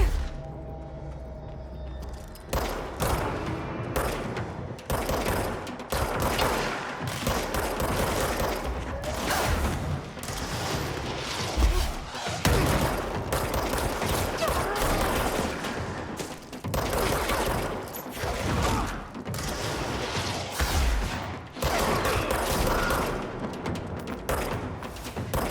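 Gunfire from shooting enemies in Control, rapid repeated bursts of loud shots with heavy booms and mechanical clatter, continuing in dense volleys broken by brief pauses across the clip.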